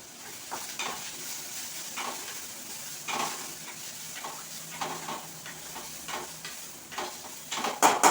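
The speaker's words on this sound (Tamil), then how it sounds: "இப்போ அந்த வெங்காயம்லாம் நல்லா வதங்கிருச்சு" Onions and curry leaves sautéing in a pan for a drumstick-leaf paniyaram filling, with a steady soft sizzle broken by repeated stirring scrapes and light utensil clinks against the pan, close up and with no talking.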